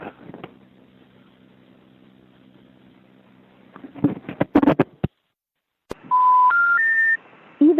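A payphone in New York, first a low steady tone, then a quick cluster of clicks and button presses, a pause, and a sequence of loud rising dialing beeps close up.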